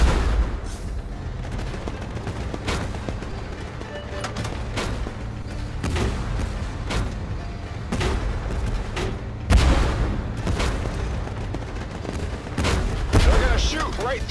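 Rapid, repeated gunfire and deep artillery booms from tanks in Tank Force, dense volleys with heavy thumps over a constant engine rumble, loud and close, with a voice speaking at times.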